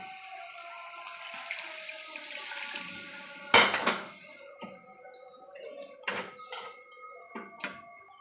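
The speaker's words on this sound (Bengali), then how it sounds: "এবার আমি জল দিয়ে দেবো" Water is poured into a pot of mutton curry with potatoes. A short, sudden splash is followed by scattered clinks and knocks of the pot and utensils over a low room background.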